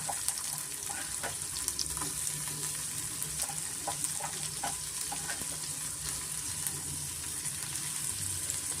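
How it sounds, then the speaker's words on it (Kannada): Mashed onions frying in a pan for butter palak paneer gravy, a soft continuous sizzle with light scattered crackles and faint stirring, fairly quiet and without talking. "ಈರುಳ್ಳಿ ಸ್ವಲ್ಪ ಈ ಥರ ನಾವು ಮ್ಯಾಶ್ ಮಾಡಿ ಹಾಕೋದ್ರಿಂದ ಸ್ವಲ್ಪ ಬೇಗ ಬೇಯುತ್ತೆ"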